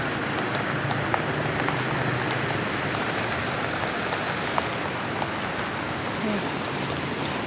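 Steady rain falling on surfaces, a dense continuous patter with scattered louder drops and faint voices underneath.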